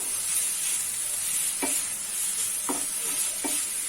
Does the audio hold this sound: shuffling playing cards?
no